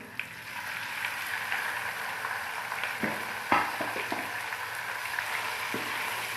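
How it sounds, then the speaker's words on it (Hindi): Small cubes of boneless chicken, about 400 grams, frying in oil for a Chinese-style chicken rice, giving a continuous close sizzle with a few scattered clinks and scrapes of stirring. "इसको फ्राई करेंगे 2 से 3 मिनट हम"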